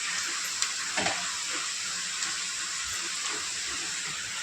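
Onion sautéing in a pan for Satara-style mutton curry, a steady even sizzle with a few soft stirring knocks, close and continuous, with no one speaking.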